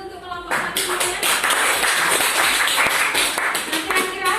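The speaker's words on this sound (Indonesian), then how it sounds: "Tepuk tangan dulu untuk kelompok 1 semuanya." Students in a classroom clap for a presenting group, a close, lively burst of hand claps with distinct individual slaps running throughout, with a voice faintly under it at the start.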